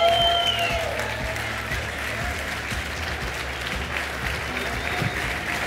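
A crowd applauds steadily throughout, a dense wash of clapping with some voices mixed in.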